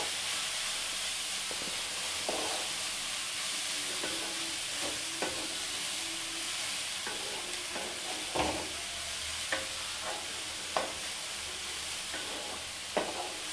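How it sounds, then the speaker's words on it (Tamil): Broad beans sizzle gently in a pan over a slow flame as a spatula stirs them, giving soft continuous frying hiss broken by occasional scrapes and taps. "சேர்த்துட்டு நல்லா பொறுமையாக ஸ்லோ ஃப்ளேமில் வச்சு மிக்ஸ் பண்ணி விடுங்க"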